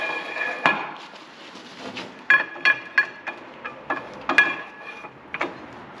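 New wheel studs being fitted into the axle of a 1966 Oldsmobile 442 give a series of sharp metallic taps and knocks, irregular and close, ringing briefly against a quiet garage background.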